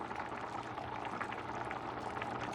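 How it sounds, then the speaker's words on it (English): Paella liquid boiling in the pan before ostrich is added, a steady dense bubbling and simmering hiss that holds evenly throughout at moderate, close range. "It's boiling."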